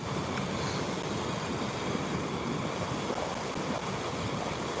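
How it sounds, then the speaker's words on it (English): Rushing water pouring down into a river, a steady broadband roar of flow that stays loud and unbroken throughout, with no voices over it. "There's a lot more water starting to come down there, I can hear it."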